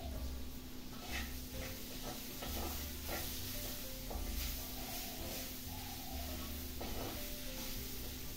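Fish chilli curry simmering in a pan is stirred with a spoon, a low bubbling sizzle under soft scraping strokes, quiet and close with a steady hum in the background and no talking.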